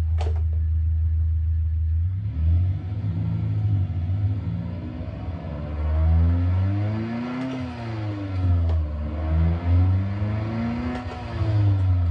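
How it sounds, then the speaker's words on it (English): A car with a manual transmission idles with a low rumble, then engine revs climb and dip in several swells as the clutch is eased out, heard close and alone. "And you can hear the RPMs rise"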